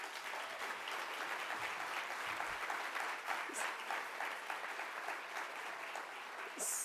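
Conference crowd applauding a sponsor announcement, continuous broadband clapping from many people at even, moderate loudness with no clear speech over it.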